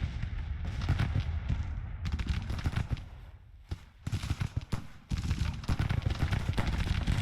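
Civil War artillery fires counter-battery shots in the strategy game Grand Tactician at Bentonville, a dense barrage of cracking cannon reports and crackling volleys that rolls on continuously with brief lulls.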